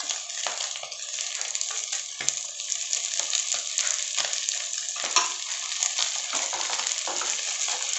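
Carrots, beans and capsicum stir-fry for roadside chicken fried rice, a steady sizzle with repeated spatula scrapes and clinks against the pan, close and moderately loud with no talking.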